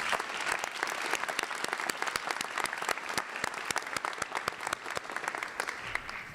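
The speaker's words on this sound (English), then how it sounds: "Please give them a round of applause as well." A crowd applauds for the guidance department at a senior scholarship night, sharp individual claps standing out from a steady, moderately distant wash of clapping that holds for several seconds.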